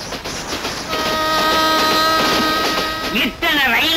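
A train runs along the rails in a Tamil film scene, a continuous rolling rumble with bright, horn-like tones rising over it. Voices talk over the passing train.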